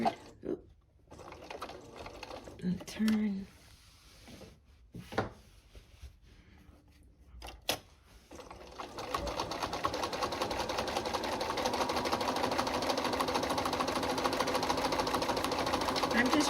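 A sewing machine stitches fabric for a picture frame flange border, running in a steady, fairly loud whir through the second half after sparse handling clicks and brief stops early on.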